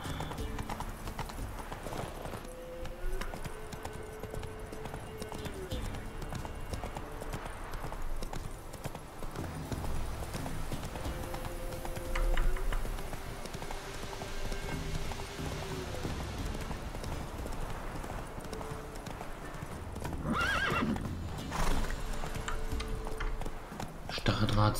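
Rhythmic hoofbeats of a galloping horse in The Witcher 3: Wild Hunt play continuously with a faint melodic tone, and a voice talks over them now and then.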